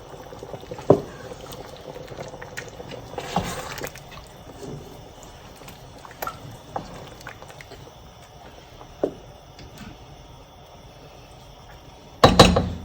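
Rice for mutton biryani boils in a 16-quart All-Clad stainless steel rondelle, a steady low bubbling broken by a few soft clinks and a louder clatter of metal near the end.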